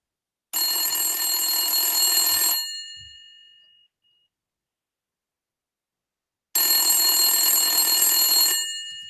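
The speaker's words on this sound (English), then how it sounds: "Then you receive another phone call after a few hours." Telephone ringing for an incoming call, heard as two long, steady electronic rings of about two seconds each with a pause between them. The rings are loud and close, with no talking.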